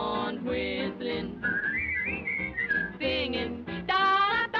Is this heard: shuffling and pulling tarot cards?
no